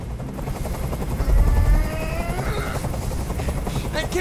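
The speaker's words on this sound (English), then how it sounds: "Tell that helicopter to get out of here!" Helicopter hovering in the video game Detroit: Become Human gives a loud, continuous rotor thump throughout, with faint voices in the background.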